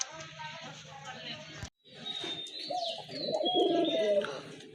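A pair of pigeons coo close by, the low cooing rising in the latter half after a brief break, with a voice talking over it and a few thin chirps.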